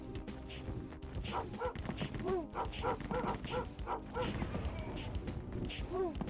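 A dog barks, yips and whimpers in the Rise of the Triad video game, with repeated close, loud barks over a busy game soundscape.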